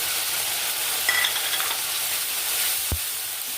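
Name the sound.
onion paste frying in oil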